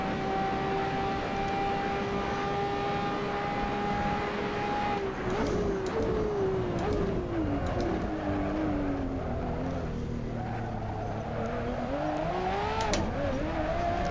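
A Ferrari 599XX Evo races a lap at Monza in Assetto Corsa, its engine holding a high steady whine before dropping and rising through gear changes, sustained and fairly loud.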